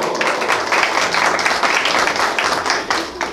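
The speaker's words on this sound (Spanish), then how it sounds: "¡Fuerte los aplausos" Applause at a 50th birthday party, given for the hostess's parents: a dense, continuous patter of many hands clapping, loud and close, sustained without a break for a few seconds.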